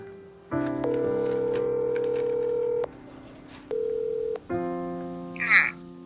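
A telephone call is dialed, producing a series of sustained electronic line tones that start, stop and change pitch in distinct steps over several seconds, with brief faint noise near the end.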